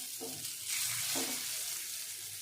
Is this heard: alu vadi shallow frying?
yes